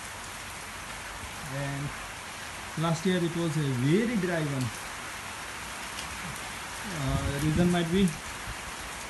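Steady rain drums on the roof of a cow shed during the rainy season, a dense continuous patter that runs throughout while someone talks over it in short stretches.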